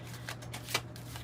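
Tarot cards being shuffled by hand: soft, papery riffling and sliding in brief repeated bursts, close but quiet, over a low steady background hum.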